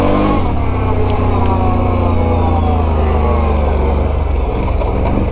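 A Can-Am Renegade 1000 ATV on Tusk Megabite tires, in four-wheel drive on a muddy test ride, gives a loud, steady engine drone that holds close and continuous throughout, with no talking.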